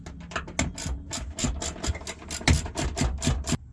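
A ratchet tightens the clamp bolt on a brake line, a close series of sharp mechanical clicks coming in quick uneven bursts, with no voices over it.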